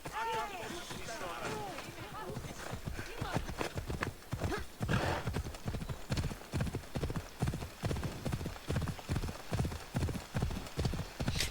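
Horse hooves in a video game gallop in a fast, steady clip-clop rhythm, loud and close, with a brief whinny near the start.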